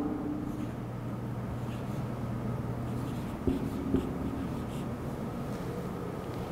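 A pen scratches steadily across paper while numbers are written by hand, a soft continuous rasp close by with a couple of small taps, no talking.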